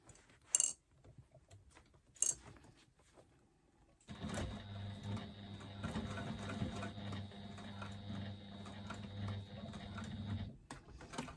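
A sewing machine runs steadily for several seconds as it stitches across fabric, whirring close and clear, after a couple of small clicks and before it stops abruptly.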